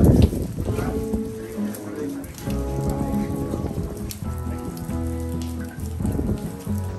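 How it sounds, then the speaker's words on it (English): Steady rain falls in the Alps on a mountain pass ride near the Stelvio, a dense wash of patter with a low rumble, while faint voices and background sounds run underneath. "It's raining."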